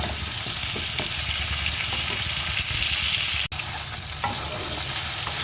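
Steady crackling sizzle of taro frying in a pan, with occasional scrapes and clinks of stirring, continuous throughout and close.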